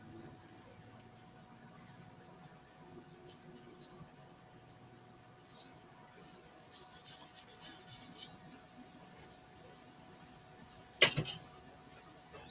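Wood is hand-sanded with sandpaper in a soft scratchy rubbing that grows louder and more rhythmic midway, ending with a sharp knock, quiet and close with no talk.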